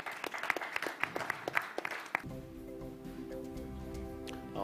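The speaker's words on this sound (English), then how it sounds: "Big applause to all of us." About two seconds of rhythmic clapping from a small group, which then gives way to a low steady hum.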